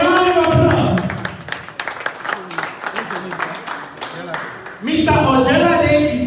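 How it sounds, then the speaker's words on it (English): Audience applause at a political fundraiser in Chicago, a dense wash of many hands clapping that swells after voices, with people speaking over the start and end. "Please, a round of applause."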